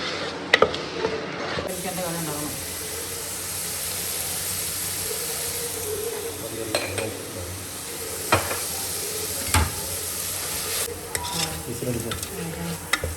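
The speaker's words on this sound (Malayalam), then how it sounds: "ഇഞ്ചിയും വെളുത്തുള്ളിയും ഉണ്ട്. ആ കൂടെ ഞാൻ പച്ചമുളക് മിക്സ് ചെയ്ത് എടുത്തിട്ടുണ്ട്." Ginger, garlic and green chili sizzle in a pan while a spoon stirs and scrapes, a loud continuous hiss broken by sharp clinks and scrapes, with no talking.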